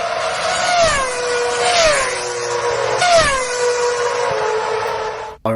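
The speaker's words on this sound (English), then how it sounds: "I added the F1 car" F1 race car engine sound effect laid into a coffee commercial: repeated high-pitched whining passes, each pitch sliding downward as the car screams by, several in quick succession, loud and close with no speech.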